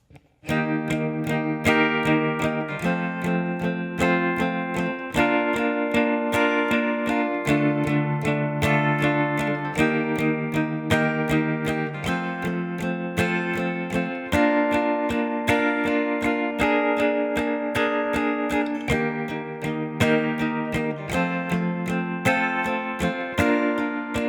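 Steady acoustic guitar strummed chords ring out continuously, a full rhythmic chorus progression of a song played alone with no voice, bright and sustained throughout.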